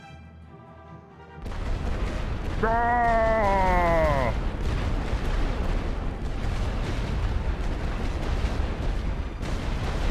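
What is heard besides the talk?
artillery fire and explosions in The Great War: Western Front video game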